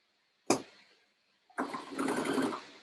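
A sewing machine stitching the side seam of a lined dress, with a short sharp burst, a pause, then a steady run of close mechanical whirring.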